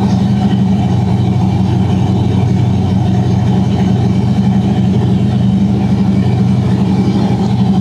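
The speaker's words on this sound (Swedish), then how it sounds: "Höll bänken motorn på 1500 varv." A Chevrolet big-block V8 on an engine dyno holds a steady, deep idle-like rumble at a constant 1500 rpm throughout, loud and close, with no voices.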